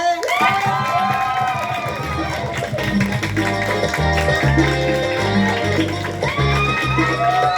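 Circus audience clapping and cheering, a loud crowd of shouts and whoops over sustained amplified music, continuous and dense.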